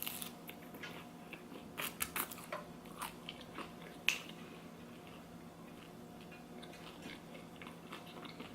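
Crunchy bites on crispy generic-brand shoestring fast-food-style fries, a handful of close, brittle crunches clustered early, then a lone sharp crack midway before quieter faint chewing, with no talking.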